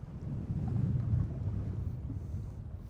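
Strong, chaotic wind gusts over a river buffet the microphone from a fishing boat, a steady low roar that swells and eases without any talking.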